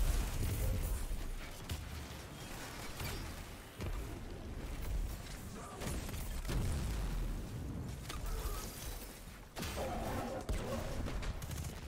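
Repeated explosions from a Void Titan build in the video game Destiny, a rapid run of booming bursts and crackling blasts over continuous game noise, loud and dense throughout.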